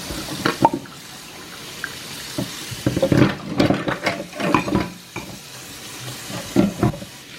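Water splashes and trickles in short, irregular bursts as a dirty syringe is rinsed and scrubbed under a tap, close and moderately loud with quiet gaps between rinses.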